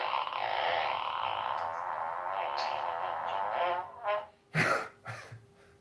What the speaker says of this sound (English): This is a fart button.